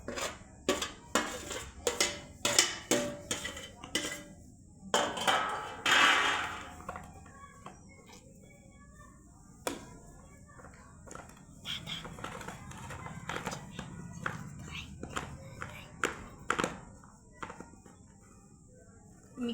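Soaked sago pearls kneaded by hand into grated boiled potatoes in a home kitchen, heard as soft squishing and pressing under a string of sharp clinks and taps from a bowl and utensils, close and irregular, with no one talking.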